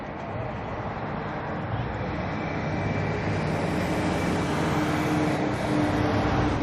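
ATR turboprop at Auckland airport at night, a steady loud engine roar and propeller drone holding throughout, rising slightly toward the end.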